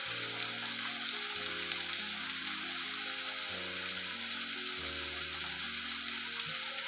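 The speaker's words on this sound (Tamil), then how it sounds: "இப்போ இதெல்லாம் நல்லா ஒரு ப்ரௌன் கலரில் வர அளவுக்கு வதக்கிடலாங்க" Onions and spices sautéing in a pan for Tamil dal palak, a steady close sizzle and crackle that continues throughout, under sustained background music.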